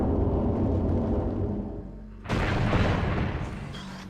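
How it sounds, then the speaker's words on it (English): Tower collapsing after a missile hits a canister in Metroid Prime, a deep continuous rumble that swells abruptly into a louder crashing roar halfway through, then slowly fades, with no talking. "As soon as you shoot that missile, the tower falls."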